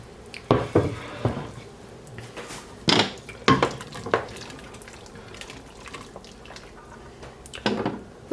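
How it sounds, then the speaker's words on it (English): Chopped purple top turnip, yellow potato and carrots tumble into a cooking pot in a few separate knocking clatters, with a soft splash and wet rustle between drops. "We're going to add the rest of our vegetables."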